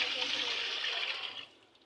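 Water pours steadily into a pot of vegetable pulao as it cooks, a close, even gush that thins and fades out near the end.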